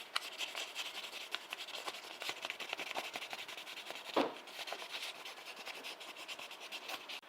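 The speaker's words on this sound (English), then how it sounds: "2000 grit sandpaper. I'm going to go over the whole car multiple times." A resin HO slot car body is rubbed by hand with 2000 grit sandpaper, a soft, close, rhythmic scratching of repeated short strokes with one brief louder scrape, no talking.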